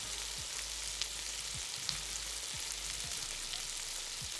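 Panko-breaded shrimp deep fry in hot oil, a steady close bright sizzle running throughout with faint pops and several soft low thumps as more pieces are added.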